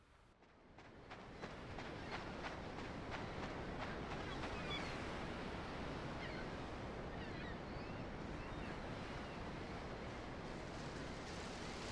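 Steady broadband wash of surf rolling in at the ocean in Grand Theft Auto 3, constant and fairly full, with faint higher chirps scattered above the roar.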